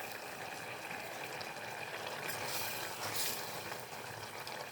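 Garden vegetables bubble in a cooking pot at a quiet, steady simmer, a continuous soft watery gurgle with no talking.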